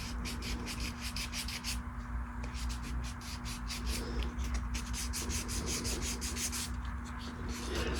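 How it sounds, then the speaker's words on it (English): Rhythmic back-and-forth rubbing of sandpaper on a wooden custom bass pickup cover, close and fairly quiet, in quick repeated strokes with short pauses, over a steady low electrical hum. "There's a lot of sanding involved in building instruments."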